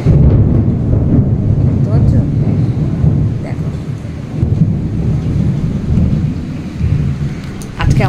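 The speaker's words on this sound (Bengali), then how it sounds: "দেখো মেঘ ডাকছে" Thunder rolling during rain, a loud low rumble that swells and fades over several seconds with steady rain and wind noise, and a person talking over it.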